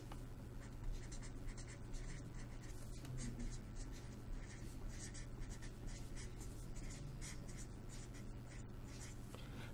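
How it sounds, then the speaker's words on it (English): Pen strokes during a lecture on inner product spaces, writing steadily on a board or page with scratchy, continuous marking sounds, fairly close and fairly quiet, with no talking. "let me write this"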